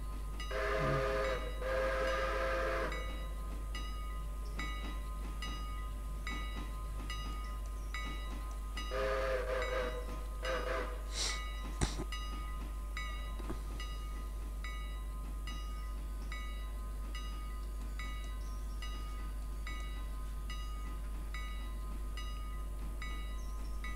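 A train pulls into Whittier Station in the railway simulation game Railroader, with two drawn-out whistle or horn blasts over a steady low rolling rumble, followed by a short sharp burst and continuing track noise.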